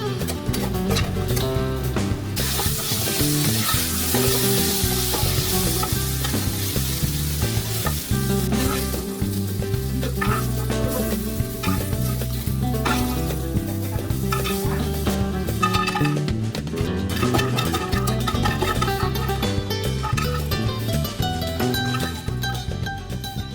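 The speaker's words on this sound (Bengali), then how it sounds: "সাথে বড়িগুলোও ভেজে নেব।" Lentil dumplings (bori) fry in hot oil in a wok, a steady loud sizzle with stirring scrapes and clinks running continuously throughout.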